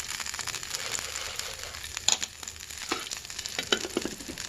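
Mustard and other tempering seeds sizzle and crackle steadily in hot oil for Telugu kothimeera pachadi, with a few sharper pops rising over the dense frying hiss.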